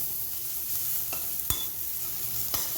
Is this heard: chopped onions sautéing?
yes